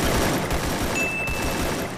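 Rapid bursts of video-game gunfire sprayed into the air during a squad battle-royale match, a dense continuous volley that stays loud across the short stretch.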